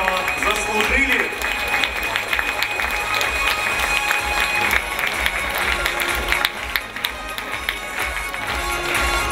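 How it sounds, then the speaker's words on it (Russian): A large audience claps steadily at a school chemistry olympiad closing ceremony at a university, a dense, continuous wash of applause filling the hall for several seconds. "Под ваши аплодисменты, конечно же, друзья, ведь они этого заслужили."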